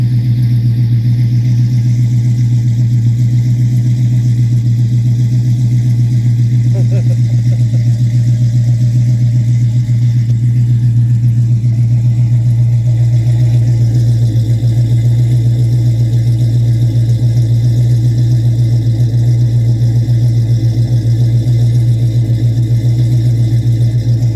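A car engine idles steadily with a deep, even rumble that holds constant throughout, close and loud, with no talking.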